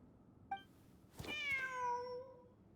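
A cat meowing in the video game Genshin Impact, one short chirp and then a single drawn-out, falling meow, clear but fairly quiet with no talking.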